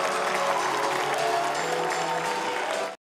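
Dense, steady applause from an audience at an awards ceremony honoring the year's best artist, loud and sustained before cutting off abruptly near the end.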